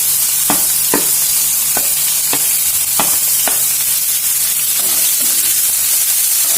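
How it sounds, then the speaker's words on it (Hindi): Chopped green chili, capsicum and carrot fry in hot oil for maggi cutlets, giving a steady loud sizzle with regular scraping stir strokes about every half second throughout. "इसको फ्राई कर लेना है"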